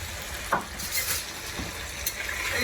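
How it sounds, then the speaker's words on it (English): Seasoned potatoes for deer hash fry with a soft steady sizzle in a non-sticking pan in a cabin while a spatula stirs and scrapes them now and then, close and fairly quiet. "do you hear that? Nothing is sticking. Everything's just cooking up nicely."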